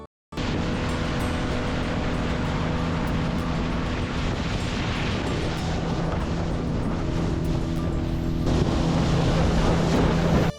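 Boat on the Banasura Sagar dam reservoir in Wayanad heading back to the landing area, with a steady roar of engine, rushing water and wind buffeting the microphone, loud and continuous throughout.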